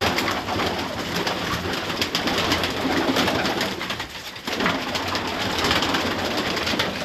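Baku-breed pigeons coo continuously in a loft, many soft rolling calls overlapping close by over a steady background hum, with a brief dip midway and no talk.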